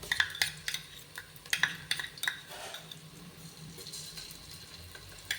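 Ginger garlic paste is stirred in a pan for veg pulao, with a spoon scraping and clinking against the metal in irregular strokes over a faint sizzle; no voices are heard.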